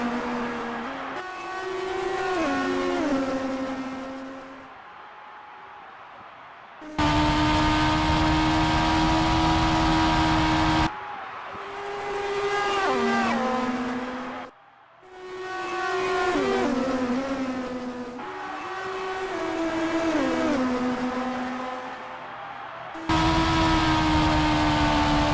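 Formula 1 race cars at the 2026 Spanish Grand Prix, Alonso chasing a Mercedes, scream past in loud waves. Engine pitch shifts and drops between bursts of high-revving roar as cars come and go.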